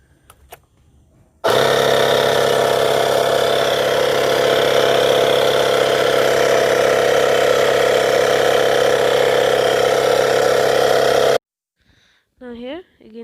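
A Maruti Suzuki NTI-30D digital tyre inflator runs beside a car wheel with a loud, steady mechanical drone for about ten seconds, then cuts off abruptly, followed by a brief voice.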